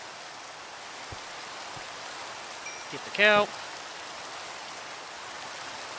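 Steady rain hisses throughout a Minecraft world, a soft even wash broken briefly by a short spoken line near the middle.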